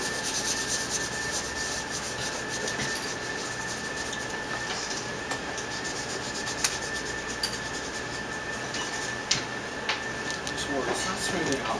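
Pencil shading on paper is smoothed out with a close, continuous dry rubbing and scratching that carries on without a break. A few faint ticks sound over the rubbing.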